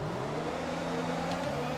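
F1 car engine in the F1 2021 video game building revs before a race start at Australia, a steady loud droning whine held throughout with no break.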